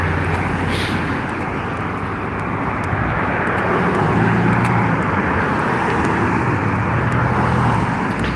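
Cars passing on a Brampton street, a continuous loud roar of road traffic with engine rumble and tire noise swelling and fading, close to the listener, with no talking.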